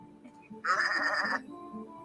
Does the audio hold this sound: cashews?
no